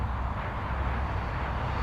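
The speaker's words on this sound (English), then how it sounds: "Another 4-burner just rolling in on runway 16 right" A Qantas four-engine jet rolls along runway 16 right at Sydney Airport at night, a continuous deep engine roar holding steady and fairly loud throughout.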